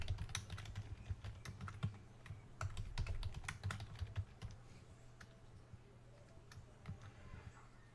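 Rapid, irregular clicking of fingers typing a password on a computer keyboard, close and fairly quiet, with short pauses between bursts of keystrokes and a low steady hum underneath.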